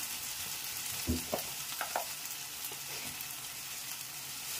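Green chili paste fries in a pan with a steady soft sizzle and a few brief stirring scrapes, no talking.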